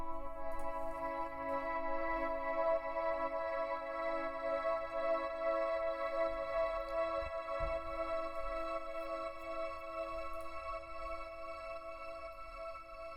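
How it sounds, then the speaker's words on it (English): A transposed, time-stretched sample with reverb, delay and sidechain processing forms a quiet, sustained harmonic drone that holds steady for the whole stretch with only a slight swell, alone without voices. "So that's sort of side chaining, pumping sound."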